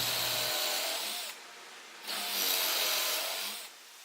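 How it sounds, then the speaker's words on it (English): A power drill whirs in two bursts while drilling dowel holes in boards with a doweling jig, spinning up loudly, cutting out briefly, then running again before stopping. "lining up the jig to those marks, and drilling the holes."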